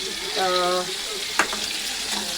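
Vegetables with coriander fry in a pan with a steady, close hiss of sizzling oil. A voice speaks briefly near the start, and there is one sharp clink partway through.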